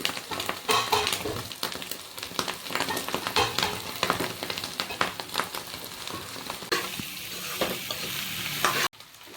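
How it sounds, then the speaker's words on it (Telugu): Cauliflower and egg fry in a pan with a loud, continuous sizzle, broken by frequent scraping strokes of a spatula as the mix is stirred. The sound cuts off abruptly at the very end, and no one talks. "ఇప్పుడు ఇది ఫ్రై అయిపోయింది, ఉడికిపోయింది ఇదంతా"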